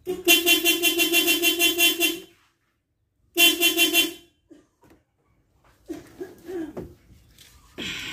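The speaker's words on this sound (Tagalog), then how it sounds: "So subukan natin, ito po yung horn." The spiral horn of a Toyota Wigo blares loudly in two long blasts after a cable repair, the first about two seconds and the second shorter, followed by quieter clatter and faint voices.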